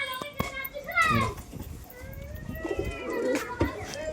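Roller pigeons cooing and fluttering in a loft, with chirpy calls rising and falling over a few seconds while children's voices chatter nearby.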